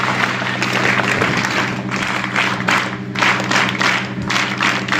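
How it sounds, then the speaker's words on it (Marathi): Students and parents at a school mothers' and parents' gathering clap together to welcome the guests, several rhythmic bursts of group clapping over a steady background hum. "या मान्यवरांचं पुन्हा एकदा 3 टाळ्या वाजवून जोरात स्वागत करायचं आहे"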